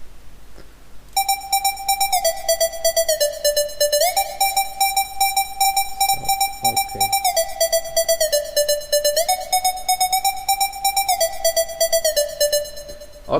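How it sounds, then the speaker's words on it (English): Synthesized harp melody from the Lucky Emerson plugin in FL Studio, a bright sustained line with quick repeated plucked notes and a few pitch steps, playing continuously and clearly for several seconds with no talking. "Okay, our harp melody is ready"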